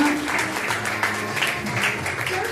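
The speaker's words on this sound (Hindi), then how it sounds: "नन्हा मुन्ना श्री कृष्ण स्वागत करने आ रहे थे, उनके लिए भी जोरदार तालियां" Steady applause from a crowd at a birthday celebration, continuous clapping filling the space with a dense, even texture throughout.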